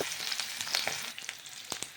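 Chopped onion sizzles and crackles in hot oil in a pan. The frying hiss is steady and close, with faint stirring ticks now and then.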